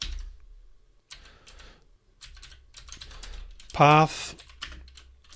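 Clicky computer keyboard typing in short irregular bursts, close and moderately loud, while someone talks through Java code beneath it, with a brief louder sound near the end.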